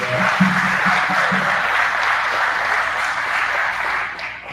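Audience applause for the panelists at a live alumni talk event, a steady dense wash of clapping sustained throughout, with a few low voices murmuring early on.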